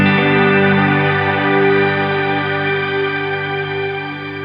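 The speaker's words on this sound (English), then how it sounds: "And this is it with the shimmer reverb from here." Electric guitar run through a shimmer reverb pedal on an ambient pedalboard, a dense sustained wash of layered octave-up tones that holds steady and loud, fading slightly toward the end, with no talking.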